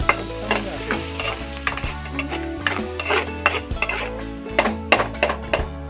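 Garlic and onion leeks fry in oil and butter in a wok, a steady close sizzle broken by repeated metallic clinks and scrapes of a spatula stirring against the pan.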